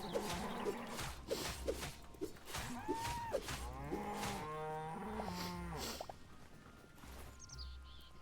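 Cows moo in the video game Hytale, several drawn-out lowing calls following one another at close range over faint ambient background.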